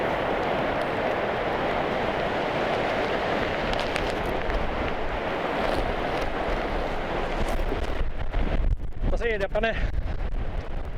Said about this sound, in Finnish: Oho, mikä tuuli.